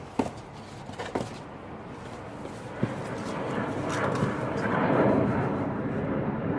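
A steady, broad roar of an airplane swells and fades overhead, with a few sharp knocks and thumps near the start.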